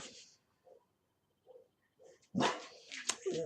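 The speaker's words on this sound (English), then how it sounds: "my dog is making a bunch of racket right now" A dog barks and yips indoors, a few soft muffled yelps and then a louder burst of barking up close.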